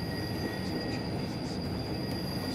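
Continuous loud rumble and rolling clatter of a train running in Train Simulator 2016, steady and close with faint high squealing over the top, no voices.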